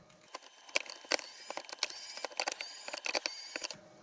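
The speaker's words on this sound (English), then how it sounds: "They're all self-tapping screws, but they come out fairly easily." Self-tapping screws being backed out of a cheap LED garage light with a screwdriver, a close series of sharp clicking, ratcheting and creaking sounds in an irregular rhythm, with no talk.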